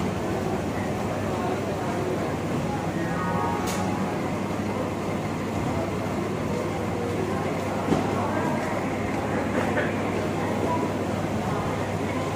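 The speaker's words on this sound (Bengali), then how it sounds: "এক্ষুনি আরেকটা লোকাল ট্রেন এসে দাঁড়ালো" A Kolkata local train stands at crowded Howrah station, giving a continuous low rumble with clanks and brief squeals. The dense chatter of a crowd fills the platform throughout.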